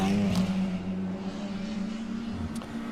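A race car that may be running rough pulls into the pit lane during a WRL endurance race at Road Atlanta, its engine droning in a low, steady hum at moderate distance with a brief rise near the end.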